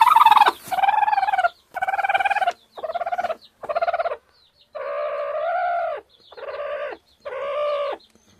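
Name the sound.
Medak breed chickens clucking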